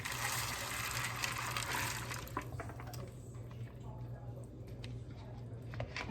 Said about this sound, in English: I wash them.